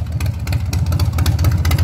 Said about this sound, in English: I just cranked it up, so she's idling.